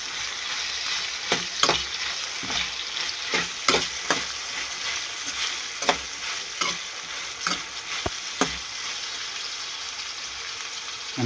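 Kantola (spiny gourd) curry being stirred in a hot pan, a steady oil sizzle broken by repeated scraping strokes of the spoon every second or so, close and fairly loud with no talking.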